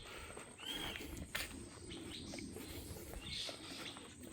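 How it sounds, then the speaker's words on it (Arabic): Small birds chirping busily nearby in a forest in central Kuala Lumpur, a noisy chorus of short high tweets and calls over steady background noise. "اهي دي العصافير اللي عاملة الدوشة دي كلها يا جماعة"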